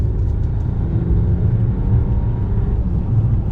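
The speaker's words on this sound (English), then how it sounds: "And as we give it some gas," A 2022 Mercedes-Benz S500 accelerating gently with a very quiet engine: a steady, smooth low rumble that stays even and muted throughout, with no talking.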